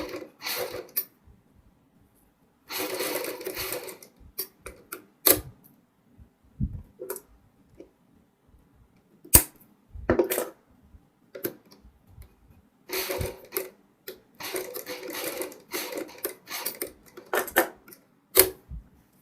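Sewing machine stitching beaded lace onto the neck of a kurti suit, heard as bursts of rapid mechanical chatter broken by pauses and single clicks, moderately loud and close, with no voices.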